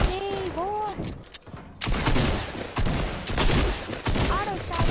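Rapid automatic gunfire in a keyboard-and-mouse shooter video game, dense, loud and crackling in several long bursts, with brief gaps. Voices briefly speak over the shooting at the start and end.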